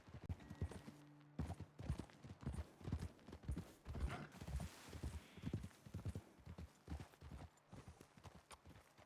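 Horse hooves clip-clop in Red Dead Redemption 2, a steady, fairly near run of irregular hoof strikes from more than one horse, with occasional creaks of tack and no talking.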